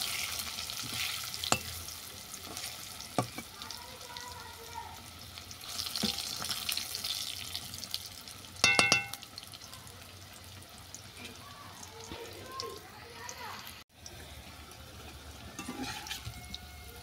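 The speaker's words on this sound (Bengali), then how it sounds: "আলুগুলো উল্টে পাল্টে বাদামি করে ভাজা হয়ে গেছে" Potato pieces fry in hot oil while being turned until browned, a steady low sizzle with occasional stirring clinks, scrapes and splashes over the course of the cooking.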